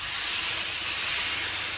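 Water splashed into a hot pan of onions for a mutton korma sets off a loud, steady hiss of steam and sizzle that holds evenly throughout with no pauses.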